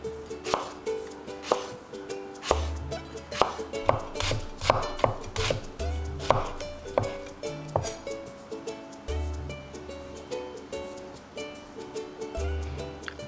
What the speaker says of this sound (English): Slice lengthwise into thin stripes.